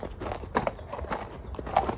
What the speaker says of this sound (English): So, you've got a grey horse here.